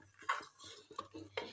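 Spoon scraping and clinking in a pot while cornflour slurry is stirred into chickpea chaat, a few close, quiet metallic knocks and scrapes spaced out over a soft background.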